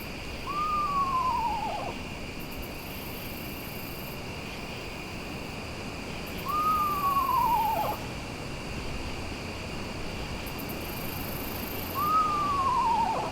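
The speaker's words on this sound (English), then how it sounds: "The screech owl is pretty social." A descending whinny-like screech owl call repeats three times at slow, even intervals over a steady night background of insect buzz and crickets.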